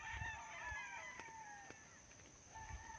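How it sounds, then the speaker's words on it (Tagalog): Chickens and a rooster at poultry coops cluck and crow faintly in the distance, with a high steady hum and light rustling in the quiet background. "At mayroon pa rin ditong mga manukan mga Pinoy."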